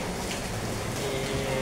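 Steady continuous rain falls during the rainy season, a soft even wash of noise with no break.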